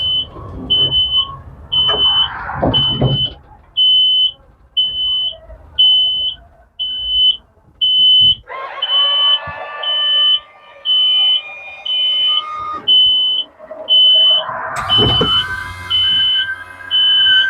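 A coach's wheelchair ramp warning alarm sounds a regular series of short, shrill, evenly spaced beeps, loud and close, with mechanical whirring and a few noisy bursts between them.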